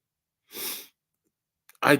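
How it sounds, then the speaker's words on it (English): A stubborn sneeze struggles to come out: a sharp, breathy gasp, a pause, then a few quick sniffing catches and a sudden loud burst at the end, heard close and alone. "Sometimes a sneeze just wants to be stubborn."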